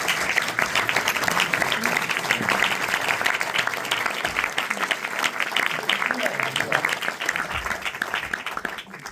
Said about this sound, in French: d'ailleurs, on peut l'applaudir, elle est là